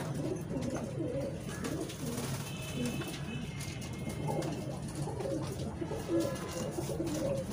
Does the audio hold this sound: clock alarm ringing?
no